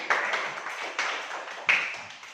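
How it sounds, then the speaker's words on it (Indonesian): In a classroom, people clap for group 3: three loud, evenly spaced strikes roughly every 0.8 seconds, each ringing briefly in a reverberant room. "tepuk tangan dulu untuk kelompok 3"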